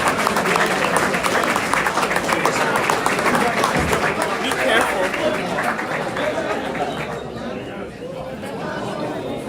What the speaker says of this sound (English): if we can get a round of applause for all their efforts throughout the season